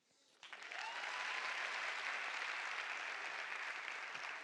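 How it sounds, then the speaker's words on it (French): Comedy club audience bursts into loud, sustained applause that swells quickly and holds steady, dense clapping filling the room without talk. "Applaudissez pour lui."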